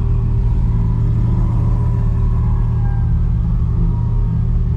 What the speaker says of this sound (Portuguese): Barulho do GT2 RS.